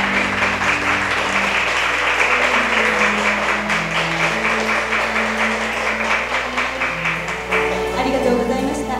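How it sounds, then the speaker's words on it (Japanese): Guests at a mock wedding ceremony at Nagoya Garden Palace applaud steadily throughout, a dense continuous wash of clapping with a soft musical bed and voices underneath. "拍手でお答えくださいませ"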